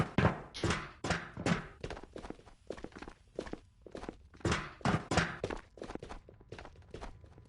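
Footsteps in the video game Ghosts of Tabor, a steady series of loud, close thudding steps in an even walking rhythm, with no talk over them.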